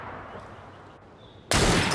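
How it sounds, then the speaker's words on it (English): A gunshot from the video game Assassin's Creed Syndicate erupts as a sudden loud blast after a stretch of quiet ambient background, then its roar lingers. "That sounded like a second gunshot."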